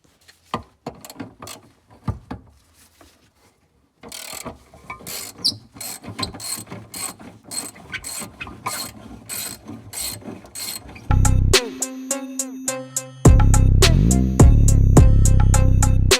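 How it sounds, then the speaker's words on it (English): A socket ratchet clicking as it works a rusted nut off a car, quick bursts of pawl clicks at first, then a long steady run of ratcheting, ending under louder mechanical noise. "I'm gonna get a socket and a little nut or whatever and take that off"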